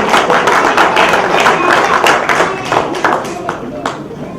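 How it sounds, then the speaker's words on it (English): An audience at a women's interfaith peace gathering claps steadily and fairly close throughout, with voices in the crowd and scattered louder individual claps as the applause thins toward the end. "Can you clap for them?"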